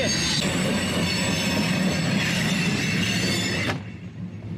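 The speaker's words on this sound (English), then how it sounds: "the fucking train is like 10 feet away from this thing" A train rolls past very close at a campsite, loud and roaring, with shrill wheel squeal and metallic rattling throughout before the noise cuts off abruptly near the end.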